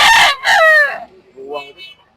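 A rooster at a chicken expo in Carbon Public Market, Cebu City, gives one loud, close crow, and a fainter bird call follows it. Nobody speaks.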